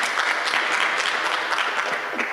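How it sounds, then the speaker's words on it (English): Audience applause at a healthcare conference following a presentation, a steady dense clapping from a room of people that stays at an even level throughout. "Let us applaud Paulina for the good presentation."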